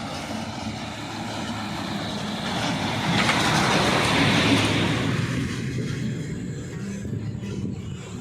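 An MSRTC 'Lalpari' red state transport bus approaches on a village road in Konkan, its engine roar swelling from a steady background rumble to a loud pass, then easing away, with no talk.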